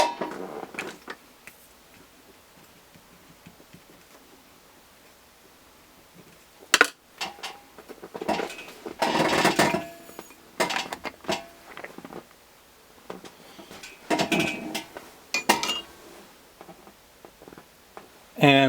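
Metal powder pan handled and set back onto a Hornady powder dispenser scale while reloading with stick powder, giving scattered light clinks, taps and creaks in bursts over a quiet room.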